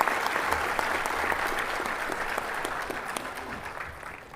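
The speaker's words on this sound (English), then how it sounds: "Will you please give a warm round of applause for Justice Aniruddha Bose?" Steady applause from an audience at a farewell function honouring Supreme Court Justice Aniruddha Bose, a dense, even clapping that holds for the full stretch without letting up.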